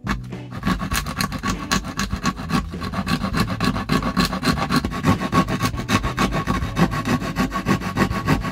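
A wooden stand is filed down with a cheap 100-yen Daiso rasp in loud, steady back-and-forth rasping strokes that repeat close up without a break, and nobody speaks.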